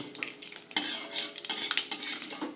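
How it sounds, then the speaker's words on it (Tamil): Mustard seeds splutter in hot oil with small crackles and pops over a soft sizzle, with occasional light scraping of a utensil in a pan, close by. "கடுகு வெடிச்சு விட்டு உளுத்த பருப்பு செவக்க போகிறது"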